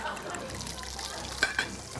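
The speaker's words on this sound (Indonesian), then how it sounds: "Ini bawang goreng." Onions sizzle and fry in a hot pan in a busy kitchen, giving a steady, close crackle with a couple of brief louder clatters near the end.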